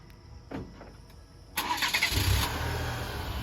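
A 2023 Chevrolet Colorado Z71 starts by remote: a few soft clicks, then the engine cranks and catches with a loud burst, settling into a steady idle close by.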